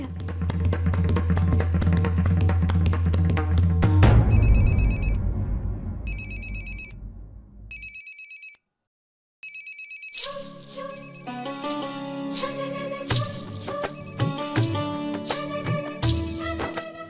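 A telephone ringtone plays in a TV drama scene: a musical passage gives way to repeated bursts of bright electronic ringing separated by short silences, then music resumes loudly.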